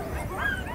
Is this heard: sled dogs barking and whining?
yes